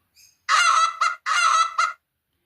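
Two loud, close goose honks, each a long nasal call followed by a shorter one, with a faint chirp just before.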